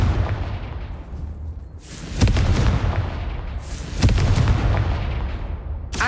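A Confringo blasting spell cast in the Hogwarts Legacy video game detonates twice in close succession, each a loud, deep booming explosion that rolls off before the next one hits.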